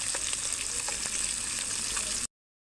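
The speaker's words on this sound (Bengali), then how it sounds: "দেখুন কি সুন্দর হয়েছে মাছ ভাজা" Rupchanda fish fry in hot oil with a loud, continuous close sizzle and light crackling, then stop abruptly. No one speaks.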